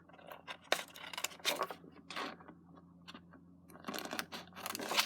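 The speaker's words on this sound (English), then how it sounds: "use your scissors, and you're going to just cut it out" Scissors snip and crunch through a stiff overhead projector plastic template in a series of irregular cuts, close up, with short quiet gaps between bursts.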